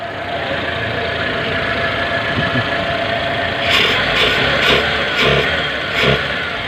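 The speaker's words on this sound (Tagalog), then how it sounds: "ang ganda ang ganda ng minor okay na yung pasok ng gasolina" A Mitsubishi Lancer with a 4G13 engine idles after tuning, a steady, close mechanical hum with a slightly knocking texture, and a few brief rises in pitch from light throttle blips toward the end.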